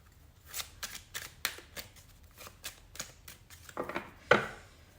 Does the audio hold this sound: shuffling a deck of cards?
yes